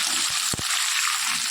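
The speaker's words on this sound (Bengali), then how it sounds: "তাহলে একটু কচুটা ভাজা ভাজা হোক" Cut taro pieces sizzle steadily in hot oil in a pan, a continuous hiss with a single soft thump partway through and no talking.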